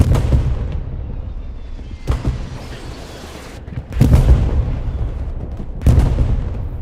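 Heavy artillery fire in Hell Let Loose sets off several loud booming blasts, spaced a couple of seconds apart, over a constant rumbling battlefield background, with no clear talking.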